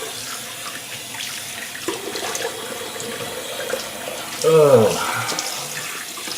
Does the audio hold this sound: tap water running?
yes